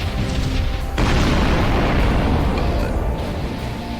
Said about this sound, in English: All cannons fired.